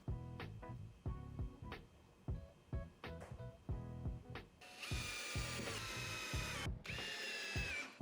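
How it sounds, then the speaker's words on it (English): A power drill bores holes for a range hood cover in a series of short, loud whirring bursts, followed by longer sustained high-pitched drilling near the end. "Once all the holes were drilled"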